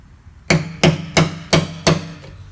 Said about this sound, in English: I'm just hammering this.